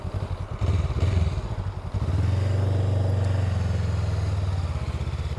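A 2023 Honda Rebel CMX500 SE motorcycle with standard exhaust idles with a low thumping rumble, then revs and settles into a steady, deep drone, close by.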